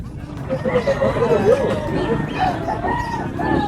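Chickens cluck and crow amid a busy outdoor murmur of voices at a pet and poultry market, the calls overlapping in an uneven, warbling stream.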